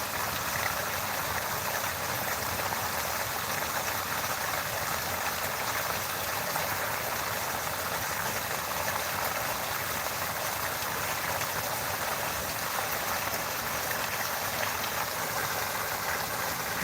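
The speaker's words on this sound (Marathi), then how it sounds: "बघा पाण्याचा प्रवाह वरचीवर वाढत आहे त्या पाईपमध्ये" Water gushes steadily through a solar pump's pipe, a constant rushing wash with a faint mechanical hum underneath.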